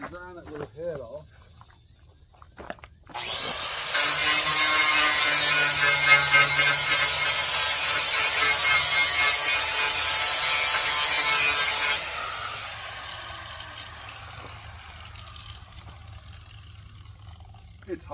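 A grinder cuts a weld head off the steel body of a 1964 Chevy C10 4x4 truck in a shop. After a brief quiet it gives a loud, continuous harsh grind for about eight seconds, then cuts off to a low fading hum.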